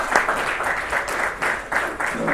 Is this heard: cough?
no